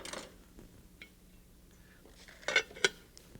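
Metal pot lid set down on a pot of pork pot roast covered with foil and pork fat, giving two quick clinks near the end after soft handling noises, close and fairly quiet.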